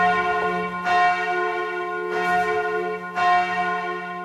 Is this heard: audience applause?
no